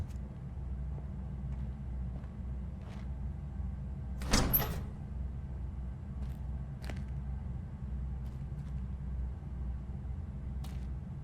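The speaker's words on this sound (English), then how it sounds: "Now let me get that door open for you." A door opening in the RoboCop Rogue City video game, a single short burst of mechanical noise standing out clearly over a steady low game ambience, with no talk.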